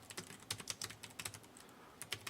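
Rapid, faint clicks of typing on a computer keyboard, a steady run of key presses with short irregular pauses and no voices.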